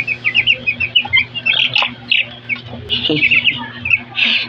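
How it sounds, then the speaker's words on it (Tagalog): Bantam chickens in a backyard pen give a busy run of high chirps, squawks and short calls, near and fairly loud, with a low steady hum underneath. "Meron po akong mga bantres dyan."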